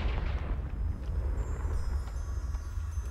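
A Confringo blasting curse explodes in Hogwarts Legacy, a dense, booming low rumble that rolls on for the whole moment with a brief crackle near the start.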